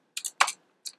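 Keys on a computer keyboard are tapped while entering a command, three quick close clicks spaced across about a second, with nobody talking.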